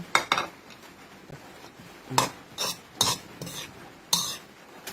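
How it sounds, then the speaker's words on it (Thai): Spoon stirring whole chilies and lemongrass in a cooking pot, with a handful of sharp metallic scrapes and knocks spaced irregularly over a faint background, no voices. "คนให้เข้ากันให้เรียบร้อยเนาะ"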